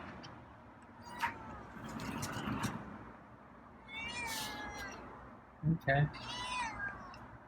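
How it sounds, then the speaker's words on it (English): A cat meows at the door, a few drawn-out meows in quick bursts near the microphone, with a person briefly speaking and soft thumps nearby. "Okay, now the meows are coming."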